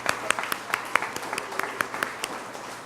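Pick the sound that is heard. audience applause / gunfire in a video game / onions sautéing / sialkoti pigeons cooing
audience applause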